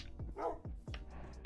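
A few sharp dog barks from Minecraft, about three quick yaps in a row at moderate loudness, with no talking over them.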